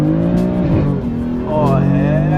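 A BMW F80 M3 with an M Performance exhaust spins its wheels, engine loud and close with a sustained roar that rises and falls alongside tire squeal, with voices faintly underneath.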